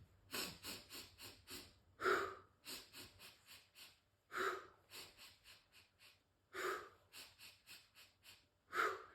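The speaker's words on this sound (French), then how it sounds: "Cette respiration neutralisante s'effectue par des mouvements d'inspire très brefs et d'expire par la bouche" Quick, sharp breaths drawn in and pushed out through the mouth during a calming breathing exercise, repeated in a steady rhythm of short bursts, close and fairly loud, with no talking.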